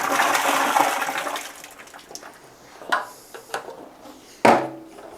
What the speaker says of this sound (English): says to start with putting about 3 gallons of water inside of here.